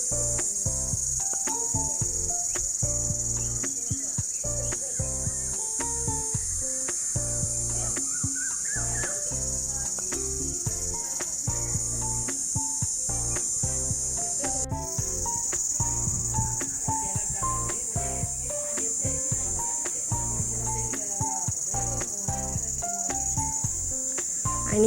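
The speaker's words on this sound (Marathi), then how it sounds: "संध्याकाळचे रातकिड्यांचा पण बघा की कसा आवाज येतोय." Crickets chirp in a dense, unbroken high-pitched drone on an evening in a village near Alibag, staying steady and fairly loud for the whole stretch with no talking.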